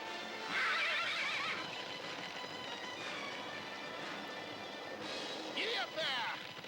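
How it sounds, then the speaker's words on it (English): A horse in a 1983 animated Lone Ranger tape whinnies loudly, once early and again near the end, amid shouting voices and a busy background. "Move, horse!"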